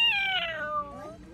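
A person imitates a cat with a single drawn-out, falling meow, close and clear, then fading out.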